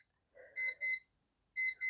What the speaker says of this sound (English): sorry, that's my little timer